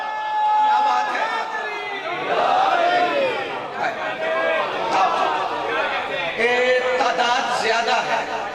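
A large crowd at a Shia majlis chants a religious slogan in praise of Ali, many voices rising and falling together in loud, swelling unison waves that fill the space continuously.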